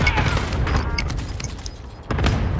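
Bursts of gunfire from several shooters in a battle-royale style shooter game, with a loud flurry of shots near the end; players talk over it.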